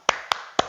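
Three sharp, evenly spaced claps ring out close and clear, children's hands keeping the beat of the tepuk minum susu clapping game in a Sunday school service.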